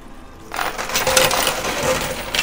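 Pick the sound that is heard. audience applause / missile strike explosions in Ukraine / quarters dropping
quarters dropping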